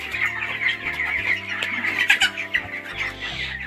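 Roosters and hens on a poultry farm clucking and squawking close by in a busy, overlapping chorus of short repeated calls, with no talk.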